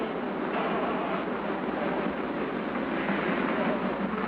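Inside a moving train carriage in the 1930s, a dense continuous roar and rattle of the running train fills the space at a steady level.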